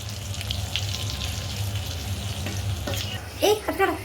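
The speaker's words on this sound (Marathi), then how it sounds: "गाभोळी टाकल्यानंतर त्याच्यावरती झाकण ठेवायचं ती पूर्ण अंगावरती वगैरे उडती सगळीकडे उडती ती झाकण ठेवून फ्राय करून घेऊ" Fish roe fries in a covered pan, a continuous crackling sizzle with occasional sharp pops and brief clinks near the end, close and fairly loud.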